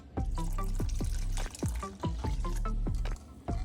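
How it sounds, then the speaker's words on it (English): Warm water poured into a bowl holding sourdough starter for a no-knead sandwich bread, heard as close, bubbly gurgling splashes with rapid falling plops and a brief pause partway through. "I have my starter in the bowl and I'm gonna mix in my warm water"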